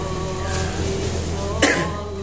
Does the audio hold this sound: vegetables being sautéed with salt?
no